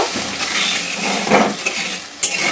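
Sugar and water go into a hot pan for raw mango and cashew chutney. There is a close, steady sizzle, with stirring scrapes and a few metallic clinks of utensil on pan, including a sharp tap near the end.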